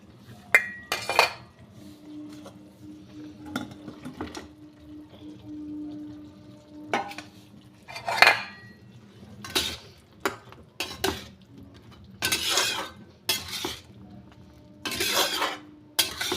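Chicken pieces go into a pan with slit green chillies for chilli chicken on a low gas flame, bringing sharp metallic clinks and clatters of utensil on pan spaced out over a faint, soft sizzle.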